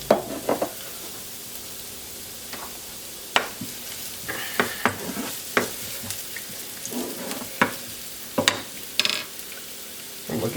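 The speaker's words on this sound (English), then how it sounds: "We're just going to try and soften some onions." Onions softening in olive oil in a warm pan, a steady low sizzle broken by repeated clicks and scrapes of a utensil stirring against the pan, close and fairly quiet, with no talking.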